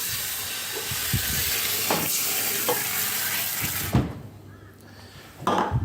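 Ice tossed into a hot pan on the bottom of an oven for baking bread gives a steady, close hiss of sizzling steam that runs for about four seconds, cuts off abruptly, then flares up again briefly.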